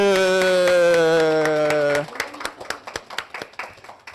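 An audience at a memory-technique demonstration breaks into clapping just after a sustained ringing chord cuts off, with a loose patter of claps continuing to the end.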